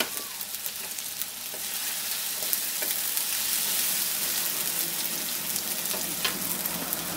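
Tomato and spices sizzle loudly in hot oil in a pan for Bengali-style tilapia dopiaza, a dense, continuous frying hiss with occasional stirring scrapes, close and steady throughout.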